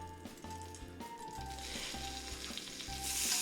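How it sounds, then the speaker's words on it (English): Butter sizzles and crackles quietly in hot oil in a pan for a spicy shrimp and sausage chowder, a soft steady fizz that grows a little louder toward the end, with faint background music. "then we're going to go ahead and add our butter"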